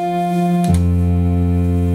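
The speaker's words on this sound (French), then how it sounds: "C'est le son du clavier clean." A cheap synthesizer keyboard playing a clean tone with no effects, a sustained steady note that briefly clicks and shifts to a new held note partway through, loud and alone.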